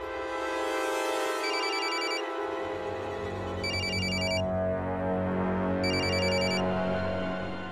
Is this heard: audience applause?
no